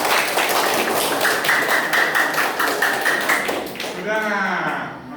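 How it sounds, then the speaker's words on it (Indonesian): A classroom of students clapping together for a classmate called to the front, a dense steady burst of applause close by that fades out near the end as a voice starts speaking. "Yuk, kita kasih tepuk tangan dulu"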